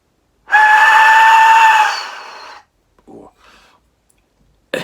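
A loud, piercing shriek-like 3D-printed Aztec death whistle blown for about two seconds, fading out, followed by a few faint breathy noises.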